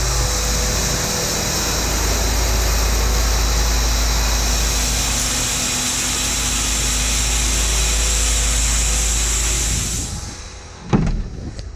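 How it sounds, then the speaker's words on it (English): A lorry blower forces calf cake up into a grain tower bin on a farm, a loud, steady, roaring hiss that runs unbroken for about ten seconds and then cuts off, followed by a few clunks. "That noise you're hearing is the grain tower bin in here getting filled."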